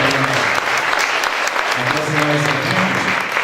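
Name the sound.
audience applause at literary festival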